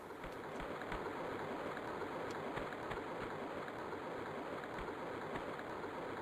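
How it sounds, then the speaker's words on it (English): A waterfall in the Tomb Raider (1996) video game, a steady, dense rushing of water that holds an even level throughout, with no talking. "The waterfall is here."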